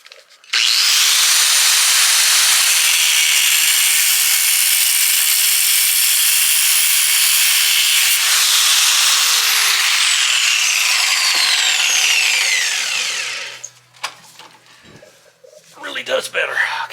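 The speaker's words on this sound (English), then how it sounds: "Got to go over to the grinder and fix up them things." A grinder reshapes the fittings of an OTC 2352 five-gallon pump hose, grinding loudly and steadily for about twelve seconds before winding down, followed by faint shop clatter.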